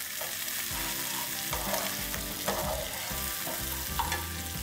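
Sliced onions fry in a pan for a fish bhuna masala, a soft, steady sizzle under intermittent scraping and knocking as a spoon stirs them, nearby and fairly quiet, with no one talking.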